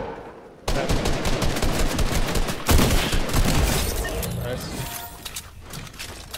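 A .45 pistol fires in a shooter video game, loud close shots with dense rapid gunfire and game noise, while players talk over it.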